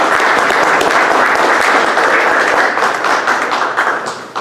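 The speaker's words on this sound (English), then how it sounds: "So I'd like to give him a round of applause." A room full of people breaks into a loud, steady round of applause for a program organizer, dense clapping holding strong before thinning out at the close.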